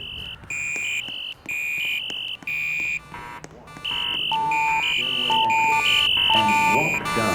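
Fire alarm demo board sounding an evacuation signal: repeated electronic tone bursts and beeping chimes in a steady pulsing pattern, loud and close, with the sequence changing pitch partway through.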